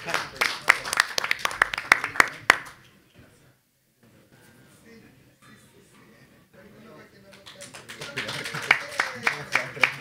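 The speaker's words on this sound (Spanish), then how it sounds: "Un gran aplauso entonces para nuestros expositores," An audience at a literary reading applauds the speakers with lively, close clapping that fades to near quiet mid-way, then rises again into a second round of brisk applause.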